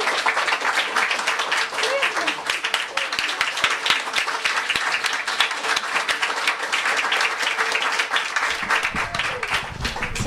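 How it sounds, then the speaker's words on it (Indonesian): Audience applause for a reader at an Indonesian book launch, a steady wash of clapping lasting throughout, fairly loud and dense, with some voices mixed in. "Tepuk tangan untuk Putri Wardani."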